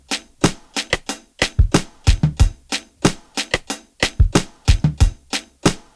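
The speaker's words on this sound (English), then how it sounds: "You created your first beat in Logic Pro on the iPad" A simple beginner beat built in Logic Pro on an iPad, with punchy kick and snare hits and a shaker in a steady looping rhythm, loud and clear with no talking.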